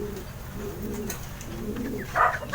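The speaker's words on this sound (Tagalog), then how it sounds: "nagsibalikan na rin yung ibon nila." Racing pigeons back from a training toss coo softly in a loft, low murmuring calls under steady background noise, with a brief brighter flutter or chirp near the end.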